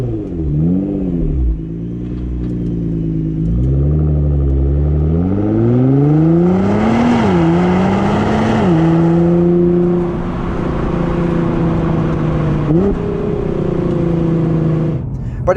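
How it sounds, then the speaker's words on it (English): A 2020 Nissan GT-R 50th Anniversary Edition with a titanium exhaust rises and falls through the revs while accelerating, a loud continuous engine tone heard from inside the car, with shifts audible along the way. "the new titanium exhaust system does sound a bit better than the previous model, especially at the tailpipe"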